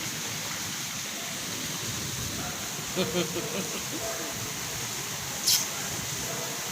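Flood water rushing after a short rain, a steady broad hiss of flowing water heard at moderate level, with a few brief faint murmurs and a short high squeak partway through.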